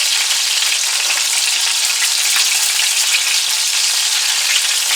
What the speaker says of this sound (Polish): Zobaczcie jak się smaży.